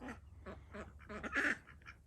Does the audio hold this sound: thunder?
no